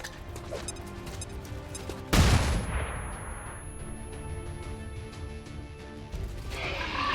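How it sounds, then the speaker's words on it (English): A flashbang grenade goes off in XCOM 2, one sudden loud bang about two seconds in, then a decaying ringing tail over game ambience. "Please tell me the flashbang works here."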